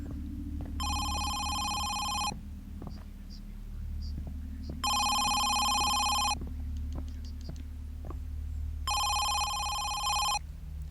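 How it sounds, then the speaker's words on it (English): Telephone ringing inside the PSVR horror game Home Sweet Home, heard as three loud bursts of electronic bell-like ringing separated by gaps, over a low rumbling game ambience with faint background sounds. "That's where the phone sound's coming from."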